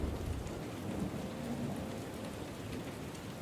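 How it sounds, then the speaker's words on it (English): Steady rain with low rumbling thunder from Final Fantasy XIV: Heavensward, a continuous dense wash of falling rain over a deep rolling rumble, even and unbroken throughout. "Enable the thunder."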